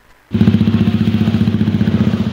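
A motorcycle fitted with a loud modified knalpot brong exhaust starts up abruptly and keeps running with a harsh, throbbing, pulsing engine roar, close and loud, during a traffic police crackdown in Meulaboh, West Aceh.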